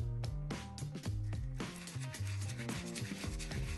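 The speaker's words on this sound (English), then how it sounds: "I sanded down the edges of the wood and gold ring with a few grits of sandpaper just put down on my desk" Handheld sandpaper rubbing over the edges of a mahogany-and-rose-gold ring laid on a desk, a quiet close scratching in short back-and-forth strokes.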